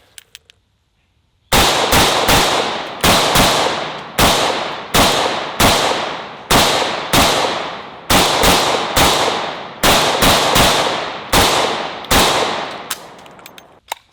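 An AK-74 rifle fires about twenty loud, sharp shots in fast, fairly even succession after a short quiet start, each crack close and ringing briefly before the next.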